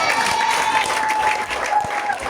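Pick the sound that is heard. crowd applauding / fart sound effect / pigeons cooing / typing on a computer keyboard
crowd applauding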